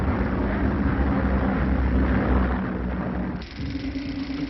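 Airplane engine in a 1939 radio drama, a steady, loud droning rumble that holds evenly, then dips and shifts slightly in tone near the end, with no speech over it.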